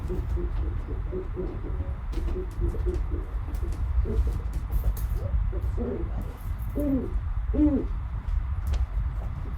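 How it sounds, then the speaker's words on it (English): A captive owl named Hooter at a birds-of-prey show gives a series of soft, low hooting calls over steady outdoor background noise, fairly faint and unhurried, with no talking. "you may have heard this bird before you saw him just now"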